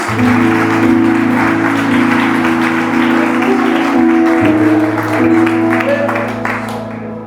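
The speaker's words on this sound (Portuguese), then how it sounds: "Se você crê no Senhor, aplauda Ele em nome de Jesus." A church congregation applauds together during a service, producing steady, loud, sustained clapping throughout, with a sustained musical drone underneath.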